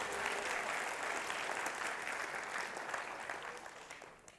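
Audience applause at a musical comedy show, a dense sustained wash of clapping from a crowd that holds steady and then begins to fade toward the end.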